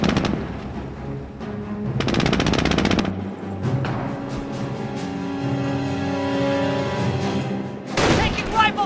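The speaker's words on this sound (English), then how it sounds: "Taking rifle fire!" Rapid rifle and machine-gun bursts crackle in a World War II battle in Company of Heroes, with repeated volleys and heavier booms under voiced battlefield chatter and shouting.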